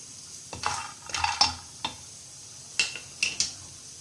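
Peanuts roast in a pan with a spatula stirring them: bursts of rattling and scraping come in irregular strokes over a faint background hiss, close and moderately loud.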